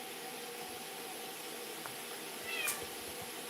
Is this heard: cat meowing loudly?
yes